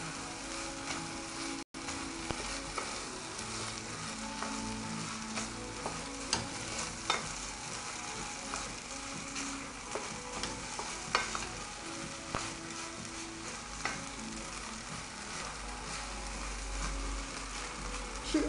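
Yangzhou fried rice is stirred in a pan. A faint, continuous sizzle carries frequent light taps and scrapes of a spatula against the pan, with a brief dropout near the start.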